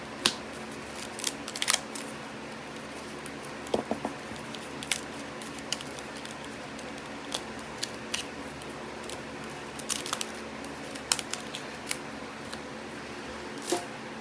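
Die-cut pieces from a holiday paper sheet are punched out, making scattered sharp pops and crackles of paper at varying intervals over a quiet room background.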